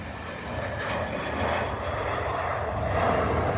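A Jet2 airliner taking off at Manchester Airport gives a steady, broad engine roar that holds at an even level throughout, heard from a distance with no talking.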